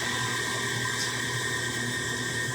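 An electric mixer whirs steadily, beating vegan sugar cookie dough in a kitchen; the motor drone is continuous and fairly close, with no voices over it.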